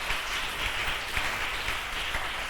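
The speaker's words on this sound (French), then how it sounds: "On acclame le nom de Jésus-Christ." A church congregation applauds the name of Jesus Christ during a French-language sermon, a steady, dense wash of clapping with no break that fills the whole moment.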